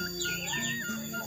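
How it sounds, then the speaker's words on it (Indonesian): A sooty-headed bulbul calls in the middle of a plantation garden, a few bright, sweeping chirps and warbled notes, fairly close and clear over a soft background hush. "burung kutilang."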